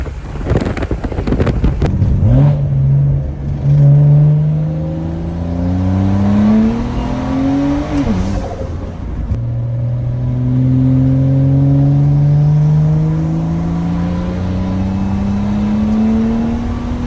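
A car fitted with a turbo upgrade accelerates hard through several gears, engine pitch climbing and dropping at each shift, loud and close with wind buffeting the microphone.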